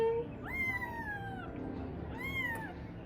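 A newborn Persian kitten gives two thin, rising-and-falling meows about two seconds apart, close and fairly clear over a low murmur of background noise.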